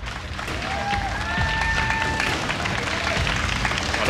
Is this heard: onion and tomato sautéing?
no